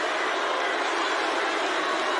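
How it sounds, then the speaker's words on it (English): A football stadium crowd at a Virginia Tech vs Florida State ACC game chants Duce, a dense, steady roar of many voices filling the whole stretch without a break. "You hear the crowd chanting Duce down to the 20"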